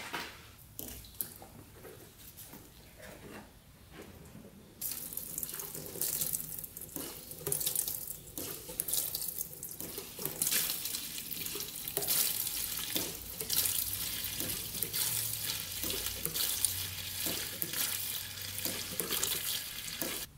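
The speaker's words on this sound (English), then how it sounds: "Let's siphon out this old gas." Old gasoline that has sat for a while is siphoned and drained from a quad into a container, a close, continuous splashing liquid trickle that grows louder and fuller partway through.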